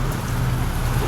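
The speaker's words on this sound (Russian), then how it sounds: "Дождь пошел." Rain falls steadily outdoors around a truck, a dense, even patter filling the short stretch at moderate loudness with no speech.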